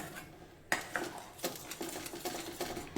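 A spoon stirs coconut buttermilk curry in a pot. Close, soft metallic clinks and scrapes come at irregular intervals after a short quiet start, with no voices.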